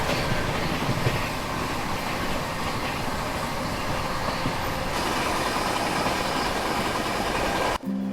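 Ranchi Rajdhani Express passing through Aligarh Junction: continuous loud rumble and clatter of the moving train, steady throughout, cutting off abruptly near the end.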